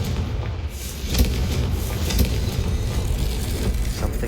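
A Confringo blasting spell explodes in Hogwarts Legacy as a deep, rumbling boom with dense low-end thuds that swell and linger across the whole moment.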